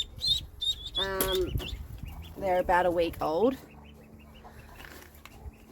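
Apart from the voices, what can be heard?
cayuga ducklings peeping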